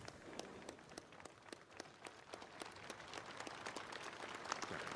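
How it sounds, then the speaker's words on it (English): Church leaders and members of the public applaud the Ukrainian president, a faint, distant, dense patter of many hands that continues steadily throughout. "The church leaders and the public are clapping the president."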